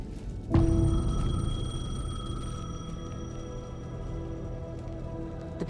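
A payphone rings in the video game Alan Wake 2: a sharp onset, then a sustained, loud electronic ringing tone that hangs on and slowly fades, with no talk over it.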